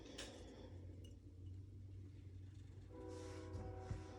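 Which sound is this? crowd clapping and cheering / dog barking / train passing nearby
train passing nearby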